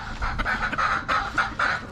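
Chickens and a brood rooster on a backyard farm, clucking close and loud in quick repeated calls with short gaps, with no talk.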